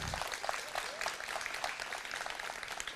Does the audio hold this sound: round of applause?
yes